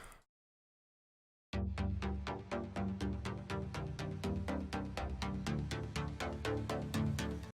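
After a short pause, a preset synth in FL Studio plays a steady stream of rhythmic chord stabs, bright and evenly pulsed, continuing without any voice.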